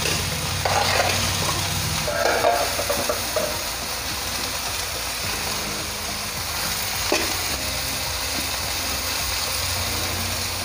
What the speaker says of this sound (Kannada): ಹಾಗೆ ಈ ಕಡೆ ಫ್ರೈ ಕೂಡ ಆಗ್ತಾ ಇದೆ.